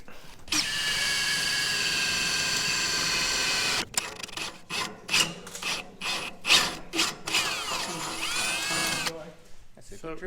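An electric drill whirs steadily for several seconds, then bursts on and off in short pulses, grinding through the material to make a cable-tie hole while fitting a long-range fuel tank to a Toyota Landcruiser 80, with some talk nearby.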